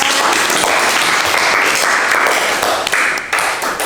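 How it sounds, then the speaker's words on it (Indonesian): Loud, close applause from a class during an arts lesson, a dense wash of many hands clapping together for a few seconds without pause. "kita beri tepuk tangan dulu untuk Mbak Dalian"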